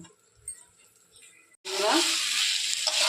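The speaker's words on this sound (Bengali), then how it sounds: "আমার পেঁয়াজ দিয়ে কষানো হচ্ছে, পেঁয়াজ আর রসুন দিয়ে।" Dried fish and eggplant curry with onion and garlic sizzles loudly in a hot pan, a sudden burst of frying that starts partway through after quieter kitchen background.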